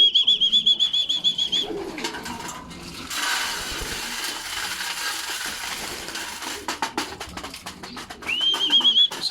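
Pigeons at a loft, a burst of loud clattering wing flaps as birds take off, framed by a rattling metallic ratchet-like clicking before and after, close and without talk.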